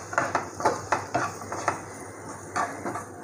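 A spoon stirs sliced onion and spices in a pan for an onion-and-okra dish, giving a run of close, uneven scraping and clinking strokes about every half second, with faint sizzling underneath.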